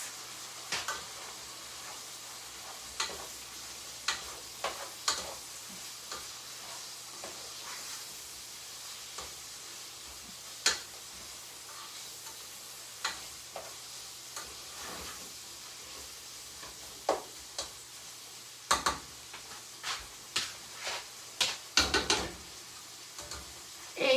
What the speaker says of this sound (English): fry the sausages, bacon, onions, and peppers together.